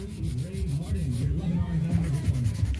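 An acrylic nail is filed into an almond shape with a rhythmic rasping of strokes at close range, while voices talk over it.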